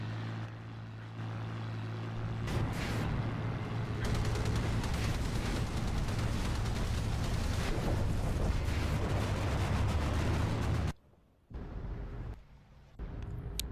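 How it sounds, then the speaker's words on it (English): Aircraft crashing and exploding in the naval combat game Battlestations Pacific: a dense, loud roar of engines and blasts rumbles continuously for about eleven seconds, then cuts off abruptly, leaving a few quieter bursts. "There's quite cool crashes as well. You can see all the spiraling out of control and the explosion."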